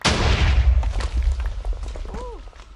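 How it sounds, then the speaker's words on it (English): A heavy, booming in-game explosion, enlarged to resemble a railgun impact, hits loud at once and rumbles on while fading, followed by a brief rising electronic whine. "Bigger explosions are necessary"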